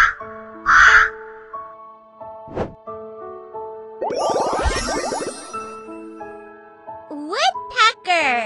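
A crow caws in a few harsh, raspy calls, set between bright chime and ding sound effects from a children's bird-learning presentation.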